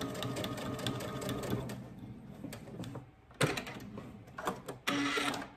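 A sewing machine stitches fabric for a McCall's M7831 garment, running in steady rhythmic bursts with brief pauses between them, close and moderately loud, with no talking.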